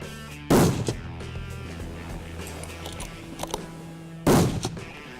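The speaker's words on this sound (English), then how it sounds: "Let's see how it shoots again." Two loud, close rifle shots from a handy stalking rifle being zeroed through its riflescope, spaced about four seconds apart, each a sharp crack with a short ringing decay and no talk between them.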